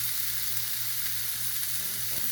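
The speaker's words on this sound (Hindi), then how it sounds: "ये मैं डाल रही हूँ पत्ता गोभी। अब इसको हम सौते करेंगे थोड़ा सा" Shredded cabbage and carrots sizzling in a hot pan, a steady close frying hiss with a low hum underneath, no talking.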